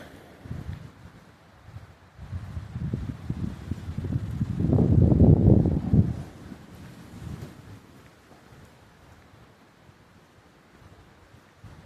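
Wind gusting across open ground at Pine Island state park in South Carolina, a low rushing roar that builds to a loud peak midway through, then eases back to a steady, fainter blow.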